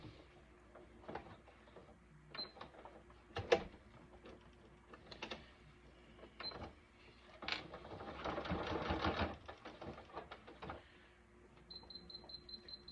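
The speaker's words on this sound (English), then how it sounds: "We're going to top stitch at 1/8 of an inch, maybe, if it's going to let me." A sewing machine top-stitches a backpack zipper panel, with short clicks and handling noises leading into a steady burst of stitching midway, all fairly quiet and close.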